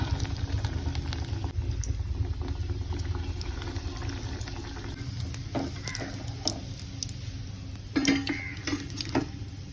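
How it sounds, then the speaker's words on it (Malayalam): Egg-dipped, breadcrumb-coated cutlets frying in a home kitchen during Ramadan cooking, giving a steady dense sizzle and bubbling throughout with occasional clinks of a utensil or pan near the end; no talking. "ഇനി കട്ട്ലേറ്റ് പൊരിച്ചെടുക്കാം."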